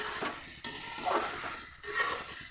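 Potatoes are tipped into a pot of frying chicken and stirred, giving a soft sizzle with scraping spoon strokes and light clatter at a quiet, close level.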